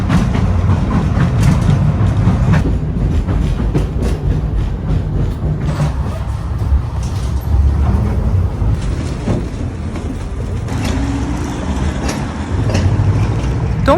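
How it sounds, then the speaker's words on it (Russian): A classic Tomsk tram rumbles past nearby, a loud, continuous mechanical drone of wheels and motor on the rails with shifting clatter and occasional squeaks over its run. "Ну и классика томского трамвайного транспорта."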